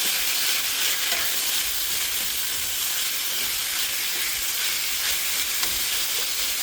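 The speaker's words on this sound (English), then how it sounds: "we'll mix up our beef a little bit" Ground beef frying in a pan while being stirred and broken up: a continuous bright sizzle with soft scraping and stirring strokes running steadily throughout.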